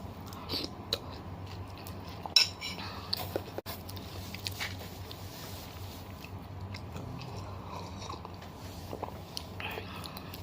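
A meal eaten with cutlery: quiet, irregular bites and crunchy chewing, with small clicks and taps scattered throughout and a couple of sharper knocks near the start.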